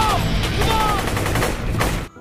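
Gunfire from North Korean soldiers in a film, a dense burst of rapid shots and fusillade over roughly two seconds, loud and close, with a faint voice under the volley before it cuts off.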